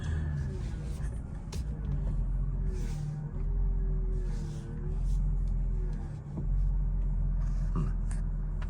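Mercedes SL500 driven at low speed to be parked, a quiet, steady engine and road rumble heard from inside with a few faint clicks and brief swells.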